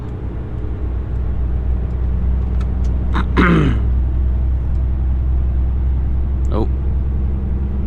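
A UK HGV lorry's engine rumbles steadily in low gear, a deep continuous drone that carries under the whole stretch, with brief speech from the driver part way through.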